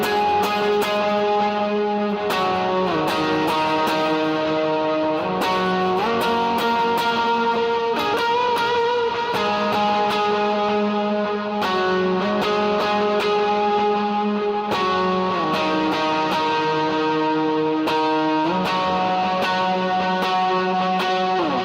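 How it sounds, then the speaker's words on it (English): Electric guitar with heavy high-gain distortion plays sliding octave lines in a worship song part, sustained and loud throughout with repeated picked attacks and slides between notes, no talking. "we're just going to be playing octaves, just doing what I like to call octave slides"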